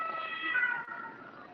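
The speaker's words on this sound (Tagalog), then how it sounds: "Ambulansya na naman." An ambulance siren wails steadily as it passes at moderate distance, a sustained tonal whine that swells and then fades slightly.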